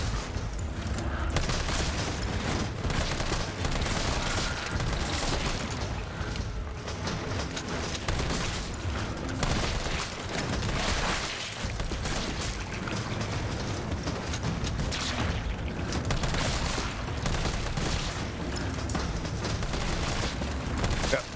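Dense, continuous gunfire rattles nonstop while zombies are shot in Resident Evil 3 Remake, a thick wall of overlapping shots and booms with a faint voice now and then underneath.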